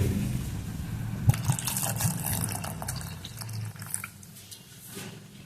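Water is poured into a pot holding soaked moong dal and turmeric powder, making a splashing, filling sound with a few drips. It tapers off toward the end with no talking.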